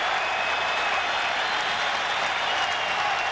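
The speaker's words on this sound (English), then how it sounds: "The crowd trying to inspire the Yankees." Baseball stadium crowd at the 2006 ALDS Game 2, cheering to urge on the Yankees: a dense, steady roar of voices and clapping that holds at an even level without a break.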